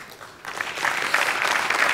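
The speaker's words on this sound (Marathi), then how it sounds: "आय थिंक आज त्यांच्यासाठी एकदा जोरदार टाळ्या" A studio audience on a Marathi comedy sketch show claps steadily. The applause swells after a quiet start and holds loud and continuous with no voices over it.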